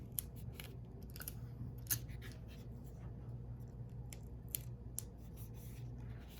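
Scissors snip through a small piece of tape while a display is being built, giving a few sharp, quiet cuts and rustles over a low steady hum, with no talking.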